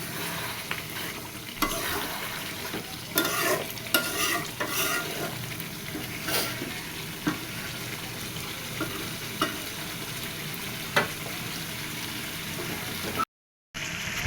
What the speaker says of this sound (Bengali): এইটা আমি আরও কষায় নিব, একদম পুরা শুকনা করে ফেলবো।